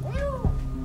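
A kitten trapped down a water well gives a single short, plaintive meow that rises and falls, faintly echoing, heard alone over low background noise.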